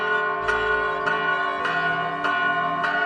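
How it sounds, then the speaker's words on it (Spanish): Church bells ring at noon in a continuous, resonant peal, strikes repeating roughly every half second with long ringing overtones. "Escucha, Antonio, ya es mediodía y las campanas nos invitan a detener un momento nuestras labores"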